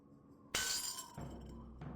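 A glass-shattering sound effect from the video game Edna and Harvey: a sudden loud crash with bright splintering glass that trails off, then a few smaller clinks of falling shards, heard alone.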